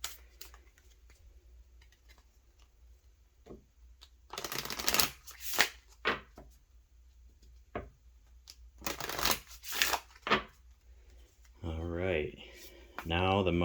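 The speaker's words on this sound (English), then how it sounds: "Give it a nice good shuffle." Tarot cards are shuffled in several crisp, riffling bursts separated by pauses, close up, with a person speaking briefly near the end.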